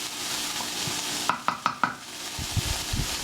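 A wooden spoon taps and scrapes through an omelette egg mixture with bacon in a pan, four quick close knocks followed by softer scraping strokes over a faint steady sizzle.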